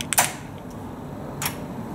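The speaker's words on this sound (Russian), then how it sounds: "Все, замок открывается." A 12-volt electric gate lock, switched by a DIY smart relay, clicks open: a quick double snap near the start, then one more sharp click about a second later, over a quiet background.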